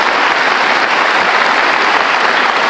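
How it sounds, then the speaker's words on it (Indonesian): Loud, dense studio audience applause rings out on a television talk show, a continuous roaring wash of many clapping hands with no speech over it. "Oke, kita kasih tepuk tangan"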